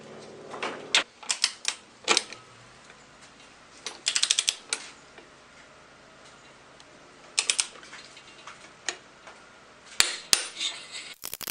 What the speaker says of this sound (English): This bolt here I'm about to torque down to 78 foot-pounds of torque